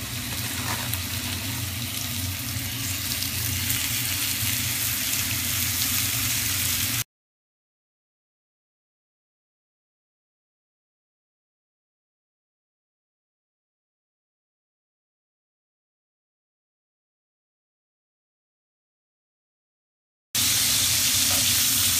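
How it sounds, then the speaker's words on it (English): Beef patties fry in hot oil in a pan, a loud, dense, continuous sizzle up close, cut off by a long stretch of silence before the crackling resumes, with no talking. "once that oil's heated up, we'll go ahead and place our patties in the pan"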